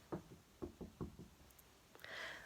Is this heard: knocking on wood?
yes